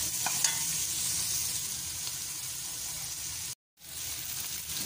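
Macaroni being stirred in a frying pan for a spicy chicken vegetable dish, a steady sizzle with soft scraping that runs continuously, cuts to silence briefly near the end, then resumes.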